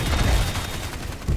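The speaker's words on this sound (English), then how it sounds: "he's also got sentry guns, which he can deploy" Sentry guns in the video game Evolve firing a continuous rattling burst of automatic gunfire with booming low thuds, dense and loud throughout.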